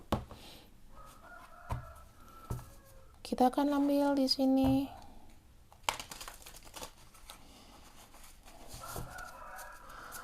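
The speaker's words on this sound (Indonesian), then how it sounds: "sorry ya kalau banyak suara ayam." Chickens cluck outside an open window, short harmonic calls rising around the middle, moderately close, with someone talking in Indonesian over and between them.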